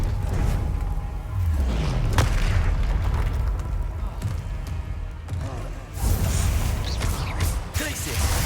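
Confringo blasting spells explode in Hogwarts Legacy as a series of booming, rumbling blasts in a busy battle, overlapping with other spell effects and game noise.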